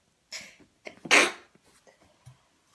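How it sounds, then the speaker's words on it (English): A single sharp, explosive sneeze preceded by a quick breath, close and loud, with faint sniffles trailing off afterward. "I gotta sneeze."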